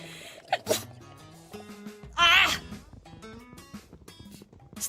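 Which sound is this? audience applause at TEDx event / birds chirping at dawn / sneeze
sneeze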